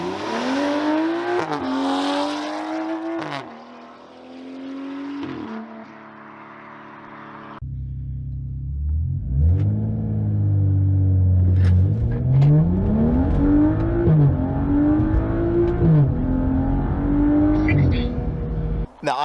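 A BMW car revs and accelerates hard through several gear changes in a Dragy acceleration test, comparing a stock B58 and a full-bolt-on N55. The engine is loud and close, rising and falling in pitch, with a shift gap partway through and talk over it.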